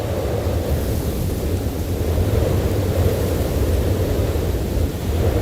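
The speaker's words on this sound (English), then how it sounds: "This isn't your average snowstorm." Snowstorm ambience in a video game: a loud, continuous roar of wind, dense and unbroken from start to finish, with no voices.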